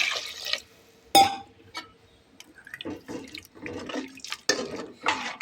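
Tamarind water and plain water are poured into a drumstick-flower curry in a home kitchen, giving splashy liquid pours and drips in uneven bursts, close and moderately loud.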